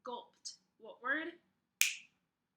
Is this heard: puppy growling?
no